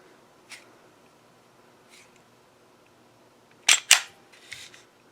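HK P2000 pistol handled during a safety check: two sharp, close metallic clacks in quick succession with a lighter rattle after, preceded by a few faint clicks against a quiet background.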